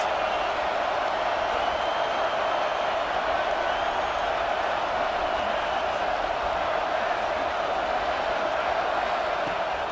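Stadium crowd in a college football video game roaring steadily for the full stretch, a dense, loud, unbroken wall of cheering and noise.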